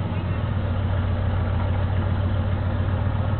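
A 1977 Chevy K10 pickup's 350 V8 idles steadily after a cold start in 8-degree weather, a constant low, close engine drone with no gaps or talk.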